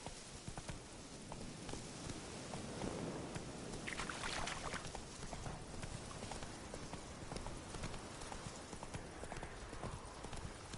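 A horse gallops in The Witcher video game, its hooves pounding in a fast, steady clip-clop rhythm over continuous background noise, with no talk.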